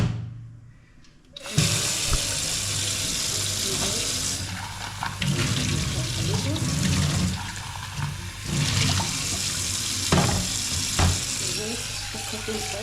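Tap water runs into a cup in a home kitchen, a steady rushing stream that stops and restarts a few times over low room noise.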